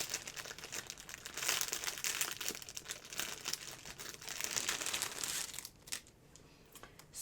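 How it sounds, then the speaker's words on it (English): Plastic packaging crinkled and handled close up, dense irregular rustling and crackling bursts that come in waves and drop away briefly near the end. "sorry for the crinkling"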